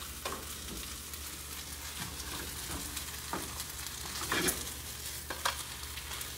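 Eggs scrambling in crispy rice with broccoli, bacon and cashews give a steady close sizzle of frying, with occasional scrapes and stirring clicks throughout.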